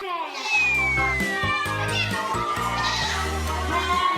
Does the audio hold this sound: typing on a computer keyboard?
no